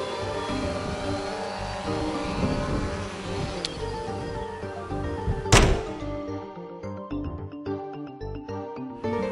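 A DJI Phantom 2 Vision quadcopter flying in a breeze, its rotors giving a continuous buzzing whine over wind noise, with one sharp thump midway.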